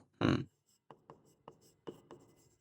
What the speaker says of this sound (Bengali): আমরা একটু লিখি